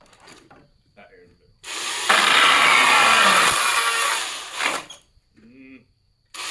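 A Milwaukee chainsaw cuts into wood in a loud, steady burst lasting about three seconds, with the engine note rising and falling before and after the cut.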